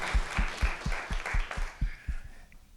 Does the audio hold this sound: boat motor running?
no